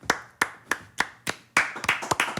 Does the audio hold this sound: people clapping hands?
yes